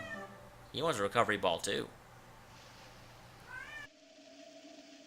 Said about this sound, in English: my cat's like, meow